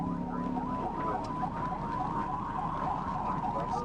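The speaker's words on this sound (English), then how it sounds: "With lights and sirens active" Arkansas State Police trooper car siren wailing during a high-speed chase, a steady tone running under loud road and engine rumble from inside the cruiser.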